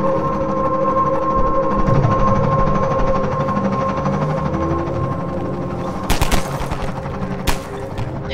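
Gunfire in the video game Half-Life 2 crackles in a few short bursts toward the end, over a steady droning background hum.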